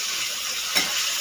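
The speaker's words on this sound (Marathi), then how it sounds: "आता हे तेल बघा उकळत आहे. याच्यात थोडंसं पाणी असल्यामुळे ते तडतडतं आहे" Chicken frying in boiling oil that holds a little water: a dense, steady hiss of sizzling with one sharper crackling pop near the end, close and without talk.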